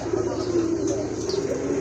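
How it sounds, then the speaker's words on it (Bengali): A pair of Hungarian Budapest red neck pigeons coo softly and continuously at close range, a low murmuring warble with faint background voices and chatter. "আরেক জোড়া কবুতর এটা হচ্ছে আপনার হাঙ্গেরিয়ান বুদা পেস্ট রেড নেক"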